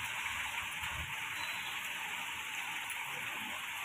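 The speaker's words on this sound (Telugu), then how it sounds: "వర్షం అయితే పడుతుంది" Rain falling outside, a steady, dense patter and hiss that holds evenly throughout, fairly faint and distant, with no voices.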